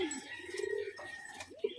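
Male pigeons of a Bengali fancy breed giving a close, low coo with a smooth, rising and falling tone for about a second, followed by quieter chirpy calls and a short burst of sound at the end.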